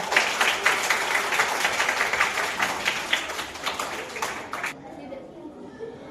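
A school class claps for the winner of a water bottle filling game, steady scattered applause from a group indoors that stops abruptly near the end.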